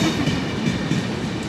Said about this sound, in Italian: E il treno che passa.